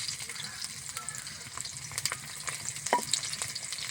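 Chopped green chili, chopped onion and crushed garlic frying in hot oil in a wok, a continuous bright sizzle with a few louder pops and spatters, close up and without talk.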